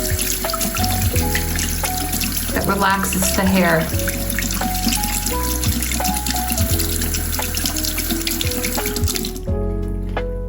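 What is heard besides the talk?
cold water poured over doll hair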